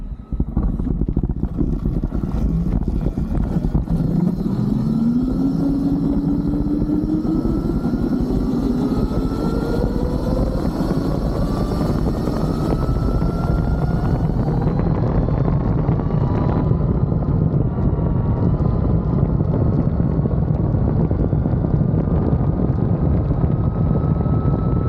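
A 72V Tuttio Soleil 01 electric bike pushed to 16 kW and 600 phase amps makes a whining motor tone that climbs steadily in pitch under a constant heavy roar of wind.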